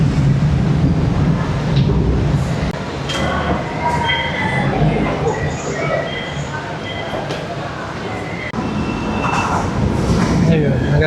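A train at a station in Manila rumbles loudly and continuously, with rail noise and high metallic squeals rising above it while people talk nearby.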